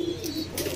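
Lahori Siraji pigeons, kept as breeding pairs, give a soft, low, continuous coo up close, with faint background noise.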